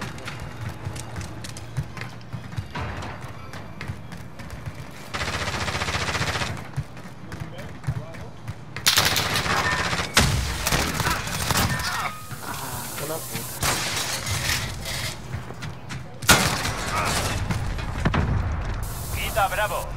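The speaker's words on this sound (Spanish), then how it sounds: "están disparando haciendo algo en B" Automatic and single gunfire in a Call of Duty: Modern Warfare search-and-destroy match, bursts rattling on and off through the whole stretch with shots at varying distances and loud spikes, over steady game ambience.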